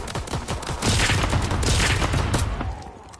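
Hip-fired guns blasting at zombies in WW2 Zombies: a dense, rapid volley of loud, overlapping shots with booming low ends that swells in the middle and then fades out.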